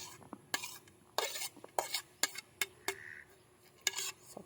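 Metal spoon chopping salted eggs against a dish, with a series of sharp clinks and scrapes in an irregular rhythm, close and fairly quiet.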